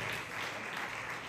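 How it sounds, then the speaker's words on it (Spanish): A church congregation claps together in a dense, continuous burst of applause, loud and steady throughout with no talk over it. "Dele palmas al que vive."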